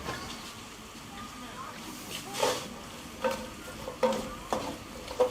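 Horse meat is returned to a pan with vegetables, gingerbread spice and sugar for a Rhineland-style braise, hissing softly as a spoon scrapes and stirs in uneven strokes that grow sharper toward the end, nearby with no talk.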